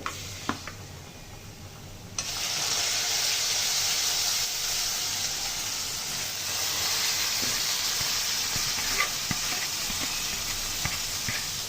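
Red amaranth greens hit hot oil with chopped garlic and dried chili, bursting into a loud, steady hiss and sizzle after a quieter start, with occasional small pops and stirring scrapes.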